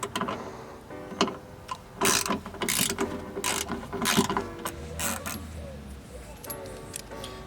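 A hand ratchet clicks rhythmically while undoing the bolts holding the windscreen wiper on a Ford Fiesta ST, with repeated close bursts of pawl ticking and metallic clinks, and a person talking briefly between strokes.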